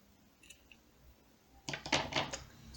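Scissors snip off the excess cord on a handmade four-colour macrame bracelet, a quick cluster of close, crisp cuts in the last second after a quiet pause.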